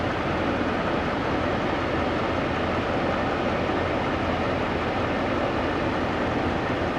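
Air conditioning blows inside the cabin of a 2015 GMC Denali HD dually truck, a steady, unchanging broadband whoosh that fills the space at moderate loudness with no one speaking.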